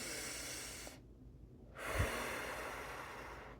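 A person taking a slow, deep breath in and out while seated in a myofascial chair stretching class, a soft airy inhale, a brief pause, then a breathier exhale, close and quiet with no talking.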